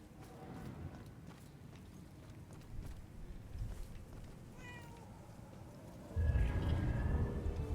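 A cat meows in the Murdered: Soul Suspect video game, a few short mid-level calls over a steady game ambience of footsteps and background noise, with a louder stretch of ambient sound near the end.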